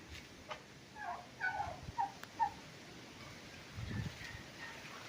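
Several faint, short turkey calls come in quick succession from a pen on a rural property in Cavinti, Laguna, over a quiet background, followed by a low rustling sound.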